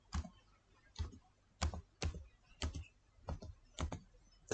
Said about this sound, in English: Now type ipconfig